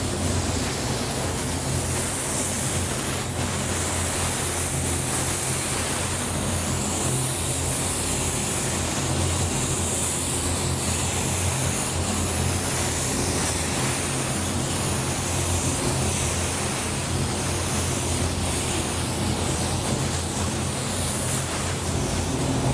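A spray gun lays down a coat of poison green candy paint in a loud, continuous airy hiss that holds steady with no breaks, close up.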